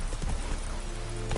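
Pounding hoofbeats of a horse galloping in the video game Witcher 3, fast and close against a continuous game background.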